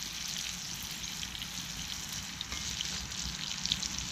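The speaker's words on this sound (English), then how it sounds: "Potatoes are getting all browned up." Potatoes browning in a pan over a campfire-style outdoor cooking setup sizzle and crackle steadily up close, with small pops scattered through the constant frying hiss.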